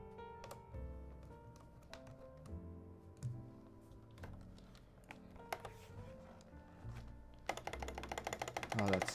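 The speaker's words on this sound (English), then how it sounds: "oh, that spacebar has never sounded so good" Spacebar presses on a rebuilt Dolch Pac 60 keyboard with a TKC1800 PCB, sounding as a series of separate clacks under a steady background hum, ending in a fast burst of rapid typing.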